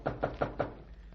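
Four quick, evenly spaced knocks on a door, sharp and fairly close, followed by quiet room tone.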